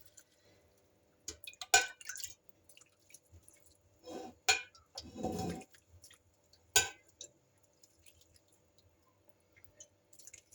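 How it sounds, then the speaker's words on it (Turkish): Sugar syrup is poured over a cooled, crisp kadayif dessert, giving faint, scattered drips and soft wet squelching crackles over a quiet background. "soğuduktan sonra bakın şöyle şerbetini üzerine döküyorum"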